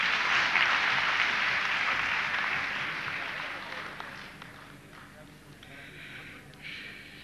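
Audience applause at a poetry and music gathering, a loud wash of clapping at the start that gradually thins and fades over several seconds.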